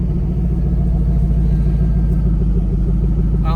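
A twin-turbo LSx V8 swapped into a Ford Ranger rumbles steadily while driving at low speed, a loud, continuous low engine drone with no voices over it.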